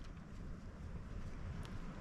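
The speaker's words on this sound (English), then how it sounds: "I'm under a DCF tarp, a Dyneema tarp. Super loud. You can hear it flapping around, but when a gust comes up" A Dyneema (DCF) tarp buffeted by gusting night wind while backpacking in the Wichita Mountains Wildlife Refuge, a loud, rough rushing roar with ragged flapping surges right overhead.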